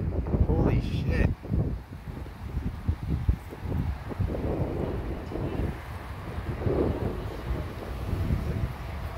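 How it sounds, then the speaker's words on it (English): Strong wind blows hard during a storm in Santee, roaring and buffeting the microphone in gusts, with a person's voice audible at moments. "There's so much wind blowing."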